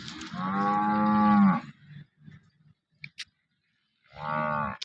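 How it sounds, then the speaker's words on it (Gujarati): A local cow, standing with her calf, lets out two long, loud, close moos separated by a quiet pause with faint shuffling. "આ ગાય છે"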